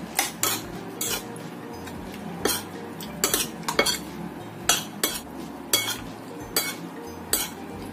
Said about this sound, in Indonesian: Aku tambahkan 1 butir telur. Kita aduk sampai tercampur rata.